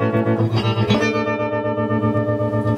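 Guitar played through a vactrol harmonic tremolo pedal, with steady rhythmic pulsing of volume on sustained chords, a slightly distorted, phased tone with wobbling harmonics, loud and alone.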